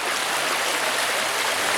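Floodwater from monsoon rains rushes past a fence by a house, a steady, unbroken roar of churning water filling the whole moment.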